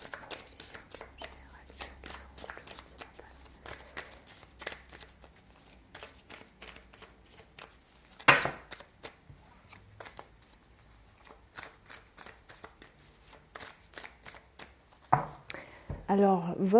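Tarot cards shuffled by hand in a run of quick, crisp riffling flicks and slaps, with a louder burst partway through and a flurry near the end, mostly heard alone.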